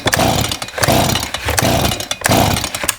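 A STIHL chainsaw fouled with bar oil in its gas tank is pull-started with the choke off: three quick rasping recoil-cord pulls in an even rhythm, close and loud, with the engine failing to catch.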